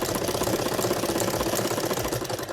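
A sewing machine runs continuously at steady speed, stitching the pleats of a cushion cover made from a saree, with a fast, even mechanical rattle close by and no talking.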